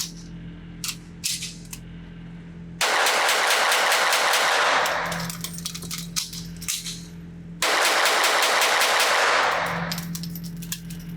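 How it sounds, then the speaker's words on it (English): Two rapid strings of pistol shots from an HK P7 K3 at an outdoor range, each burst of loud cracks lasting a couple of seconds, separated by quieter ambient noise with a low steady hum. "because this gun is kind of awkward, I didn't shoot it as fast, but I think it was fast enough"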